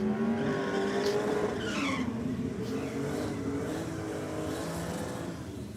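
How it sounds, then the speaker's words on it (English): A Holden Monaro spins its tyres at the start of a drag race, with loud, close squealing rubber and a roaring engine droning underneath. "Monaro just so easily just ignites those tyres"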